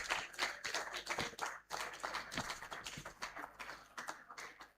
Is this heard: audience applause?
yes